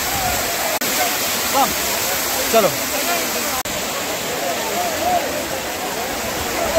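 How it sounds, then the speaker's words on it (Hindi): Fast-flowing water rushes at a waterfall with a loud, steady roar that fills the whole scene, while a person briefly speaks over it. "यहाँ पानी काफी तेज है"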